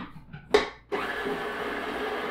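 Electric mixer creaming very soft butter with light brown sugar for oatmeal whoopie pies; a short burst at first, then a steady, fairly loud whirring drone that runs continuously to the end.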